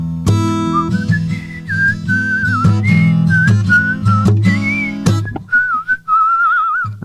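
A clear, sustained whistled melody with sliding pitches and held notes, played over a steady instrumental backing, ending on a long wavering note.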